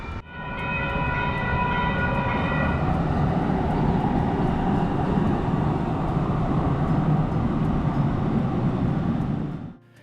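A Sacramento light rail train passes along K Street, rising quickly to a steady loud rumble with a tonal hum in the first few seconds, holding close and continuous before cutting off sharply at the end.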